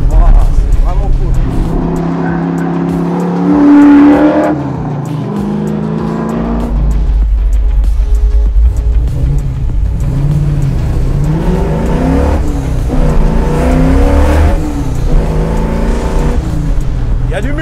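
A sports car engine revs hard and eases off on a road, the pitch rising and falling through gear changes with loud roaring passages, while someone talks over it.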